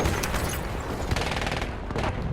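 Dense, continuous automatic rifle fire from a BAR in Battlefield 1, rattling without pause through trench combat with layered distant gunfire and booms behind it.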